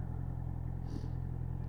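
A car engine hums at low revs after a downshift to third gear while easing off speed on a residential street, a steady low drone with faint road noise and a brief soft hiss midway.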